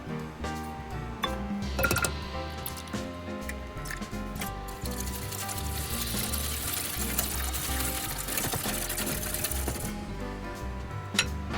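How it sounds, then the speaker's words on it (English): Eggs and sugar whisked together in a bowl, a continuous rapid clinking and swishing of the whisk against the bowl at close range, steady throughout. "mix together the eggs and the sugar, just in a bowl with a whisk"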